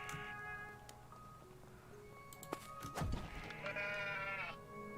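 Sheep in the video game Craftopia bleat in a few wavering calls, with hoof-like clops and a sharp hit sound midway, fairly faint and without speech.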